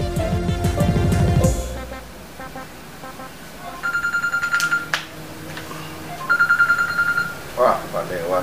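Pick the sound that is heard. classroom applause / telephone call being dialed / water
telephone call being dialed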